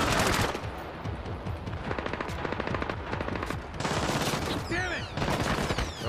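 Rapid automatic gunfire from the stealth shooter game Splinter Cell Blacklist, loud and sustained in dense bursts throughout, with a few whooshing sweeps near the end.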